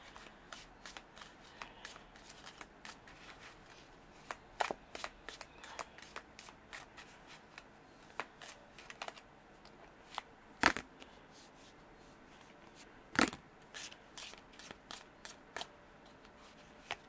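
Oracle cards shuffled by hand before a reading, a long run of quick papery riffles and soft slaps, close but quiet, with a few sharper card snaps along the way and no talk.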